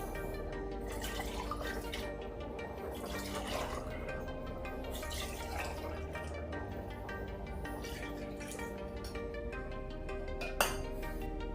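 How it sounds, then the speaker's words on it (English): Water trickles and drips into a cooking pot of arroz con gandules amid a steady background hum, with a faint clink of metal near the end. "I'm just gonna add a cup of water to this."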